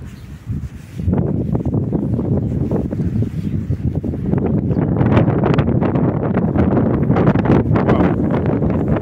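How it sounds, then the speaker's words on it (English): Strong gusting wind buffets the microphone outdoors on Bishop Road in Luton, UK, a loud, rough roar that starts after a brief quieter moment and keeps rising and surging, with no talking. "It is very, very, very windy out here."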